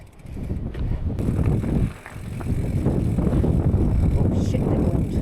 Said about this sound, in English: Oh shit, that wind.